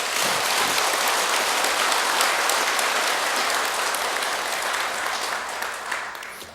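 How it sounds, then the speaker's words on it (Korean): Audience at a Buddhist temple Dharma talk applauding, a steady dense clapping that fills the room and tapers slightly at the end. "그럼 박수 한번 보내줘"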